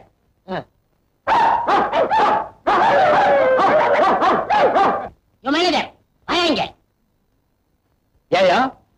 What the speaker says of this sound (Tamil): 4-5 நாயை கட்டி வச்சு கொலைக்க விட்டு கஞ்சி ஊத்துறியா?